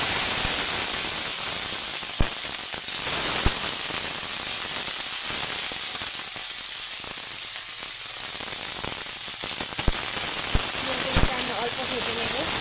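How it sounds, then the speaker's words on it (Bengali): Broccoli frying in a hot wok with nigella seeds, a steady crackling sizzle with occasional sharp pops throughout, fairly loud and continuous with no talking. "তো ব্রোকলিগুলো ভাজা হয়ে গেছে।"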